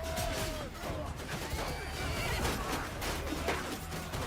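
Horses whinny and neigh repeatedly amid a medieval battle against horsemen in Mount and Blade Warsails, their cries rising over a dense din of clashing and crashing combat noise.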